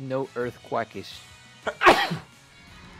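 Short bursts of speech give way to a single sharp, breathy sneeze close to the microphone, followed by a brief trailing exhale.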